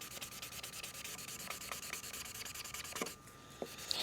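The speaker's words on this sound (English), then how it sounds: "I'm going to take the other marker and, again with the chisel side, I'm going to fill in those other areas." Quiet, rapid scratchy strokes of an alcohol marker's chisel tip rubbing across paper to fill in areas, a close, soft rasping texture with a few sharper scrapes near the end.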